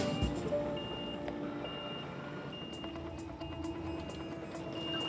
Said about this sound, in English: There's just enough room for Rick to reverse into position and line the trailer up with the rails